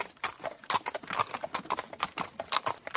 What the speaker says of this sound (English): On the way home, they met a horse and carriage.